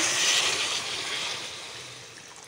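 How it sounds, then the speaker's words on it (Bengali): Water poured into a pan of potato, cauliflower and paneer curry gives a close, steady rushing hiss that slowly tapers off over a couple of seconds, with no voices. "এখন জল অ্যাড করব"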